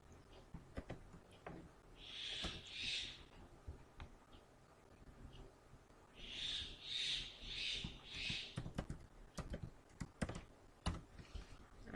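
Rapid clicking keystrokes on a computer keyboard as a password is entered, fairly faint and close, coming in short irregular bursts alongside two clusters of soft hooting calls.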